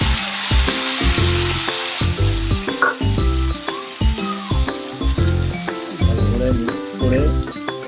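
Onion paste frying in oil for a Bengali prawn malai curry, a steady close sizzle broken by repeated clinks and scrapes of stirring, with no talk.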